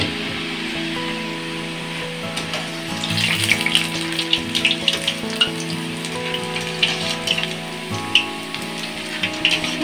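Boondi batter frying in hot oil for laddu: continuous bubbling sizzle with scattered crackles and pops, steady and close, over a faint tonal background hum, no talking.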